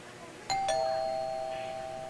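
A doorbell in the horror game Fears to Fathom rings with two clear tones, a ding then a dong, the second ringing out and slowly fading over a quiet background hum.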